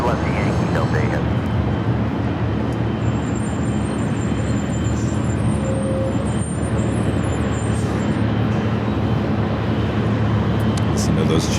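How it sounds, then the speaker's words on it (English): The GE90 engines of a heavy airliner at LAX roar in a loud, sustained wash of broadband noise, with radio chatter and talking running over it. "Listen to those GE90s."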